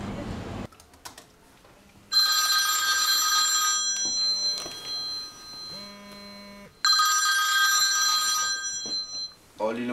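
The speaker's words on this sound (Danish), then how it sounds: "Jeg tror lige, jeg ringer hjem til Niels" Telephone ringing on an outgoing call home, with two loud bursts of repeated ring tones separated by a quieter stretch of dial and line tones, typing-like clicks and background noise.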